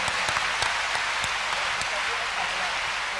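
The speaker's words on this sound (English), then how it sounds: "Shall we clap our hands unto God of the choosing?" A church congregation claps its hands together, a dense steady patter of many hands with sharper individual claps standing out, moderately close.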